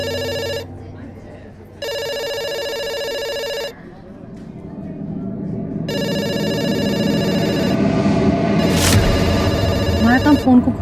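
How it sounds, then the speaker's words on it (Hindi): An electronic telephone rings in repeated bursts with short gaps between them, loud and close. The ringing grows busier toward the end. "काम फोन को घूरना नहीं, फोन उठा के ऑर्डर लेना।"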